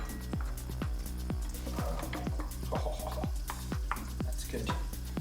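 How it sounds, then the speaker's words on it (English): Garlic and onion fry in a pan for a mushroom risotto, with a steady sizzle under a regular run of about a dozen stirring scrapes, close and even, while a voice talks faintly at moments. "we'll chuck in the garlic and onion"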